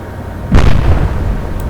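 In the naval video game Atlantic Fleet, an enemy shell strikes the player's warship with one heavy, booming impact that rumbles away, followed by fainter battle noise.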